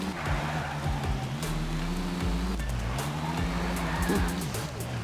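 A car driving in the video game Tony Hawk's Underground, a steady engine drone that rises and falls in pitch as it accelerates and shifts, with faint tire noise throughout.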